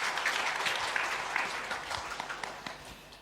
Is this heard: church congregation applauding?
yes